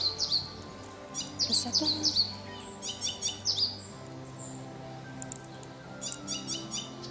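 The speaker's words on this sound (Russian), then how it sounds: "Птички поют." Small birds chirp and trill in bright, repeated bursts during an outdoor walk, fairly close and clear over a low steady background; a single spoken word comes in partway through.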